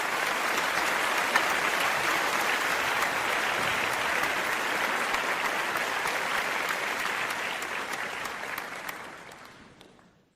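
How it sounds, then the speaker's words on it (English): Sustained crowd applause rolls on as a dense, even wash of clapping for several seconds, then gradually fades away at the end. "Where's the applause?"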